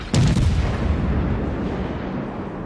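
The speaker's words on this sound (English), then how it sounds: "He's firing at me." A heavy naval gun salvo from an enemy ship in a naval combat video game, one loud deep boom followed by a long rumbling roll that slowly fades, no voices.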